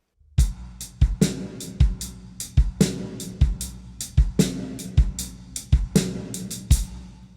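A solo drum kit plays a steady groove with crisp hi-hat and snare hits and extra kick drum beats doubling up between them, close and dry.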